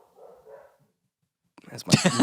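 Pet dogs in a home give a faint murmur, then break into a sudden loud, close burst of barking near the end.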